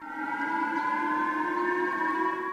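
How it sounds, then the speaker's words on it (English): A steady civil defense siren sounds in Hokkaido, Japan, as a public missile alert, on one sustained, harmonic tone, loud and unbroken, with nothing else audible. "sirens sounded in Hokkaido as a public alert was issued"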